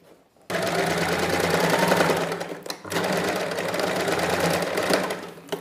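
A sewing machine stitches a lined neckline in a loud, steady close-up whir, pausing briefly midway before running again at the same pace.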